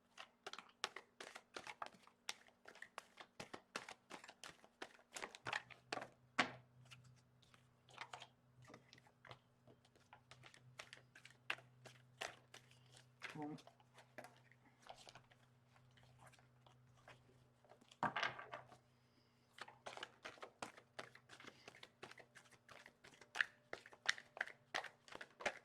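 Tarot cards being shuffled by hand, a dense run of quick crisp riffling and tapping clicks with papery crinkles, fairly close and quiet over a low steady background hum, with no talk.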